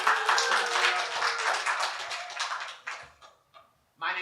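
Audience applause at a storytelling and poetry open mic, a dense round of clapping that thins out into a few scattered claps before a voice starts.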